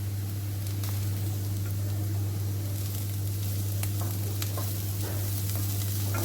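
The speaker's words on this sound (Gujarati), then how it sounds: "વેજીટેબલ્સ આપણા સોતે થઈ ગયા છે" Vegetables sizzle and fry in a pan for homemade masala pasta, a loud, continuous crackle over a steady low hum, with occasional stirring scrapes and no talking.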